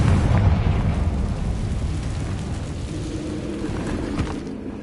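A Confringo fire spell explodes in Hogwarts Legacy, a loud, broad rumbling blast that fades slowly into a low, continuous roar over several seconds, with no voices.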